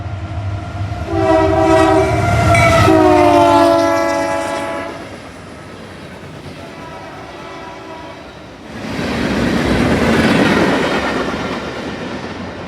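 Union Pacific locomotives lead a freight train past, sounding a loud multi-note horn in a long blast, then rolling cars rumble by with a broad roar that swells again near the end; no voices.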